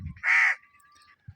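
A single loud crow caw rings out close by in a quiet village setting, followed by a faint lingering tone and a soft low thump near the end.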